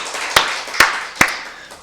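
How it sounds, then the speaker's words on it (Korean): Three sharp, evenly spaced claps from a congregation during a Wednesday church worship service, loud and close over a steady room ambience. "우리 박수를 하나님께 영광 돌리겠습니다"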